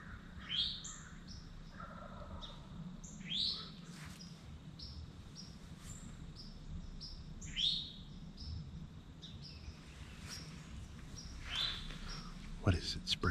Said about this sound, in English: Did you hear that gobbler go off?